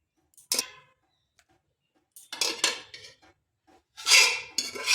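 Blanched tomatoes are scooped out of water with a metal strainer, giving a few short, sharp clinks and clattering bursts separated by near silence, close and fairly quiet.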